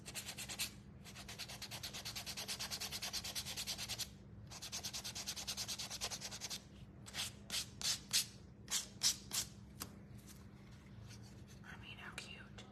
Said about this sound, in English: I'm just gonna add a little extra sanding.